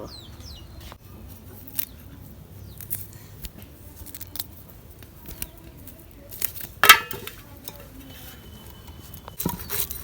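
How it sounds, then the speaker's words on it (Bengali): Taki fish are cut with a knife, producing faint, irregular scrapes, taps and a few sharper clicks spread across a quiet background, close but soft. "টাহি মাছগুলো আমি কুইডে নিব"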